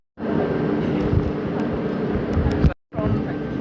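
Theme park ride train rumbling past at Chessington World of Adventures, a steady loud roar with low mechanical rattle lasting about two and a half seconds before a brief silence, then resuming, with a voice speaking over it.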